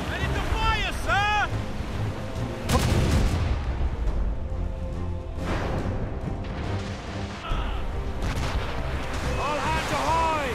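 Ship cannons boom in heavy bursts during a naval battle in Assassin's Creed Rogue, with waves and creaking sea noise around them and a voice shouting between shots.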